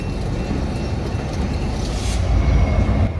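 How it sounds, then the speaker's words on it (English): An old Santa Fe locomotive, still in Santa Fe paint, rumbles past in Meridian, Mississippi, a loud broadband roar of engine and rolling wheels that swells slightly toward the end. "an old Santa Fe locomotive still in Santa Fe paint"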